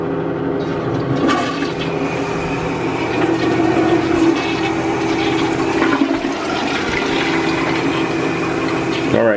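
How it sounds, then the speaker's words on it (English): A toilet flushes with a phone dropped inside, a loud sustained rushing and gurgling of water with pump-like churning for the whole stretch. "I'm going to flush it first."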